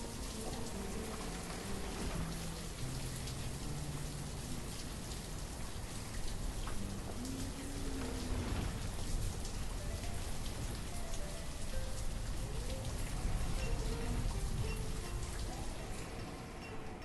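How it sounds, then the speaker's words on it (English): Steady rain falls in the video game Banished, a dense, even hiss of raindrops like a running shower that carries on without a break for the whole stretch, with faint tonal game sounds underneath. "the game has some rain and it sounds like a shower"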